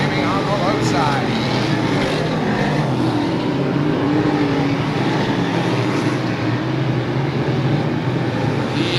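Race cars circling a fast 3/8 mile oval track, with engines roaring continuously at close range and rising and falling as the field passes, while an announcer's voice may run underneath.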